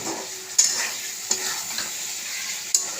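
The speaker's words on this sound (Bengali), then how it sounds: "কিছুক্ষণ কষাতে থাকবো" Spices sizzle in hot oil in a pan for Bengali home cooking, a steady soft frying hiss broken by a few sharp clinks of a spatula stirring against the pan.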